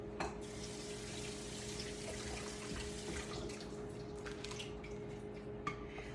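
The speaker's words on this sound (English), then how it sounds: "I rinsed them off real quick." Tap water runs steadily into a sink while vegetables are rinsed underneath, a continuous hiss with faint clinks of dishes near the end.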